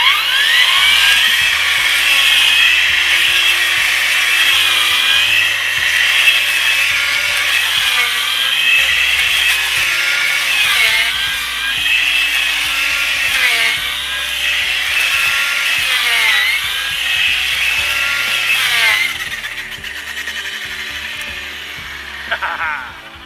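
Ryobi Expand-it brush cutter attachment running steadily and cutting through brush outdoors, a loud continuous high-pitched whine with shifting load as it bites into growth, fading near the end.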